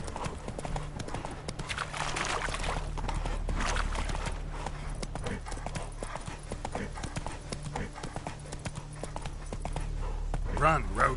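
Hooves of Roach, Geralt's horse in The Witcher III: Wild Hunt, clip-clopping at a steady galloping rhythm throughout, with game music and voices mixed underneath and a brief whinny near the end.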